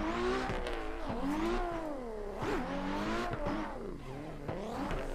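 Drift car in the racing game Assetto Corsa, engine revving up and down in fourth gear with rising and falling pitch sweeps, loud and close, with hints of tire squeal and no talk.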